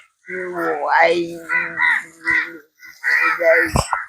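A crow caws several times in harsh, nasal bursts, loud and close, with a brief pause before a final run of calls.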